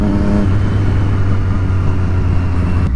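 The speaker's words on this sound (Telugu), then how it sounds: "కానీ థ్రాటిల్ బాడీ క్లీన్ చేసిన తర్వాత అయితే బండి చాలా లౌడ్ అయిపోయింది" A Triumph Street Triple motorcycle sounds loud after a throttle body cleaning, its engine humming steadily and throatily up close for a few seconds with a slight rise in pitch.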